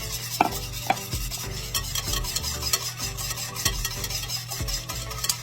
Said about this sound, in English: we're going to add in about a half a cup of lemon juice. Get that well stirred.